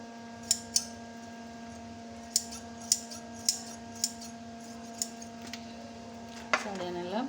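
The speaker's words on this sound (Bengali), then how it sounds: "এখানে আমি ডাবলভাবে কেটে নিচ্ছি" Scissors snip through fresh, thick beef tripe during cleaning, giving about nine crisp, close cuts spaced irregularly over a steady background hum.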